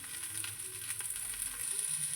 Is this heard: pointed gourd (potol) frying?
yes